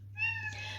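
A blind cat gives one short, clear meow, close and fairly quiet over a low steady hum.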